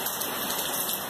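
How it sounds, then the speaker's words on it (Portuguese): Rain falling outdoors during fishing-rod preparation, a steady, even hiss of drops throughout the short stretch with no voices. "É que agora começou uma chuva aqui"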